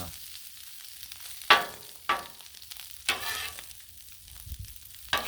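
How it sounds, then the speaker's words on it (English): Corned beef hash searing on a Blackstone griddle, a steady close sizzle with several sharp scraping stir strokes at irregular intervals. "hash is much, much better when it gets the griddle sear going"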